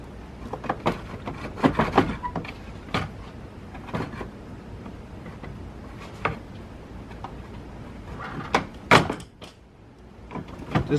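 A plastic interior trim piece on a 2016-2020 Jeep Grand Cherokee 3.2L slides free of its clips with repeated close clicks, snaps and rattling knocks, uneven in rhythm and without talk.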